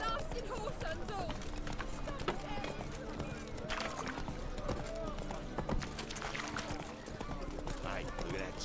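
Horse hooves galloping in The Witcher 3: Wild Hunt, a steady run of clip-clop beats under dense game music and effects, with someone talking over much of it.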